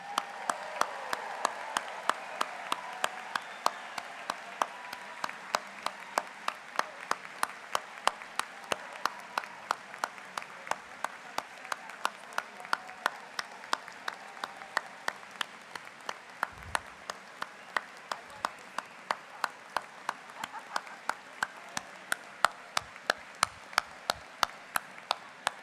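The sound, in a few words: audience applause for graduates at commencement ceremony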